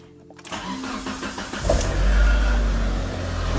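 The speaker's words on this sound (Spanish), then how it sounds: "Vamos a arrancar." A car engine cranks and catches after a steering rack (steering box) replacement with the system refilled, then settles into a loud, steady idle close by.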